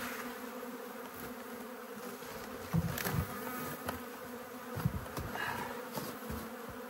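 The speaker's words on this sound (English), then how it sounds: "Lots of bees on me." Bees buzz continuously and faintly nearby around a hive, with a few louder passes drifting close and away; no voices.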